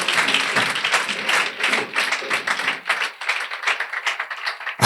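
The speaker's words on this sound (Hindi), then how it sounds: "आए हम अपने खुदावन के लिए जोरदार ताली बजाएं" A church congregation claps loudly together in sustained, dense applause that carries steadily for several seconds, with a few voices faintly mixed in.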